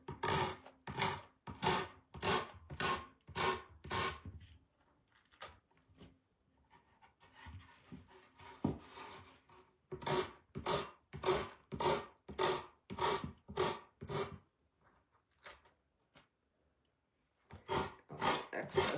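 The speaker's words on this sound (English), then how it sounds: "I'm going to sand off my excess with the corners." Sandpaper rubs away excess material at the corners of a craft piece in rapid rhythmic bursts of close, raspy strokes, pausing briefly before starting up again.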